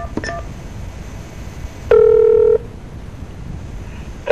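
Telephone keypad DTMF tones on a call line: a few quick faint beeps near the start, then one clear steady tone held for under a second, with line noise between.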